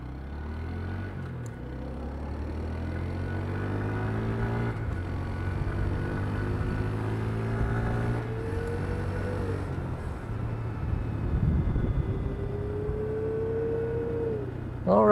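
A new Honda Grom SP 125 motorcycle rides along, its small engine droning with gliding pitch shifts as it changes speed, steady and moderately loud over wind noise.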